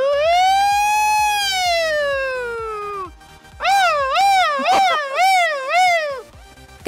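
A man mimics a fire truck siren with his voice, first one long rising and falling wail, then several quicker warbling cycles, loud and close with short breaks between.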